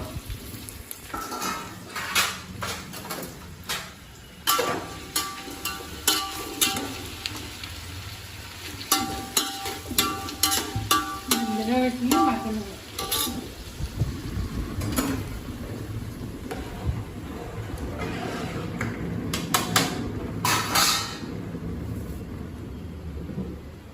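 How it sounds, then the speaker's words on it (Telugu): Green chilies and tomatoes frying in a pot for biryani, a steady sizzle beneath repeated clanks and scrapes of a metal utensil against the pot, busy and fairly close throughout. "వేస్తున్నాను పచ్చిమిరపకాయలు టమాటాలు మొత్తం అన్నీ అందులో వేస్తున్నాను"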